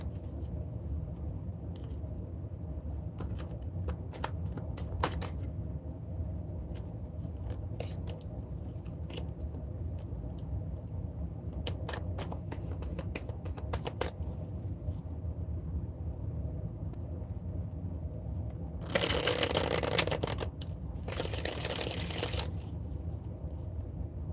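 Alice in Wonderland cards are shuffled close by in scattered quick riffling flurries, with a longer, louder burst of shuffling near the end over a quiet room hum and no talking.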